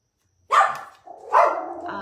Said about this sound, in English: Bailey has to bark at everything